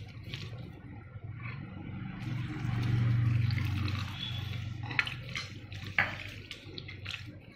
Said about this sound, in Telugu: నీళ్ళు పోసేదా చింతపండు నీళ్ళు